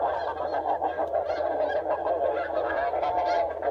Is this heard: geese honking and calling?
yes